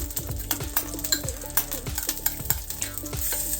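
Dried chillies sizzle in hot oil for drumstick sambar, a close crackling fry broken by repeated rhythmic scrapes and clinks of stirring.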